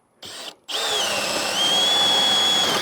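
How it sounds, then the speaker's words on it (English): A power drill whirs in short bursts, then runs steadily as it bores through wood, its pitch holding high and level. "now we're going to drill through our board"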